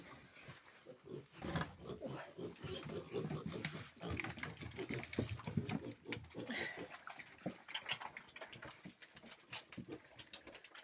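Hungry piglets squeal and grunt in busy overlapping bursts, a noisy cluster of small pigs heard close up, with scattered talk mixed in.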